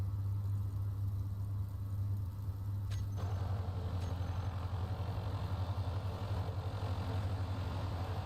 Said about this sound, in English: Is there a way of turning the engine noise down?